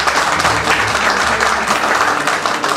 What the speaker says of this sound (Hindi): एक बार इनके लिए तालियां बजा दीजिए।